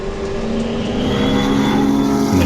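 A hatchback race car's engine drones loud and close at Pukekohe, holding a steady high-revving note that builds slightly in pitch through the run, with no talking over it.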